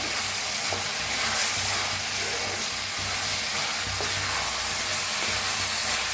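Salted ridge gourd sizzles in a pan while being stirred, a steady close frying hiss with soft scraping from the stirring and no one talking.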